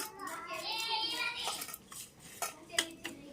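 A spoon scrapes and clinks against a bowl while pakodi batter is mixed with chili powder, masala and salt, giving irregular metallic taps and scraping close by, a few sharper knocks near the end.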